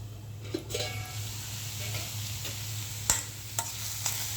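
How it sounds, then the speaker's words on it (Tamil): Cabbage stir-fry cooks in a pan with a low steady sizzle, punctuated by a few sharp scrapes and clinks of a spoon against the pan, with no voices. "இன்னும் கொஞ்சம் முட்டைக்கோசு வேகட்டும்"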